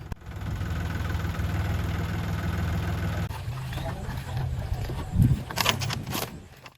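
A tractor engine runs in a muddy paddy field in rural Sri Lanka, a steady close diesel drone that drops to a lower, rougher idle partway through, with voices and splashing noises toward the end.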